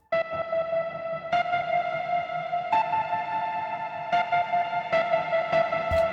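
Washed-out piano from The Gentleman library run through distortion, an LFO volume tool and Supermassive reverb/delay: a steady stream of rhythmic, pulsing notes with echoing tails and a slightly gritty, wide wash, no voices.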